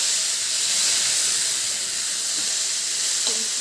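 Bori lentil dumplings fry in hot oil for a potato curry, giving a steady, even sizzling hiss with no pauses.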